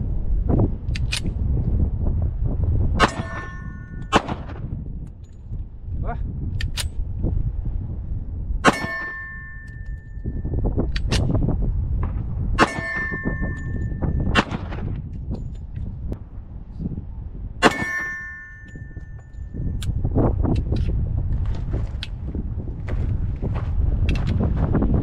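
A Girsan 1911 pistol is fired during break-in, with a series of sharp, spaced reports and bright metallic clangs ringing out over steady outdoor wind noise.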